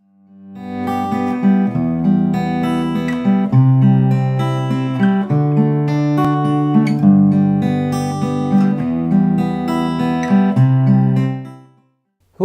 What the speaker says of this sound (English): What you just heard there was an example of a waltzy 3/4 fingerstyle pattern.